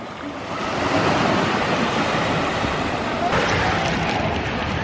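Ocean waves wash onto a beach in Puerto Rico as a continuous rushing surf, fairly loud and close, with some wind buffeting the microphone throughout.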